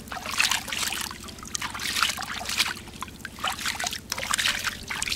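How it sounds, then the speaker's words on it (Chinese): A freshly dug mud crab from a mangrove shore is swished and rinsed in shallow water to wash off sand, giving close, continuous splashing and trickling with a low steady hum underneath. "现在我们拿到水里面把它洗干净，因为太多沙子了。"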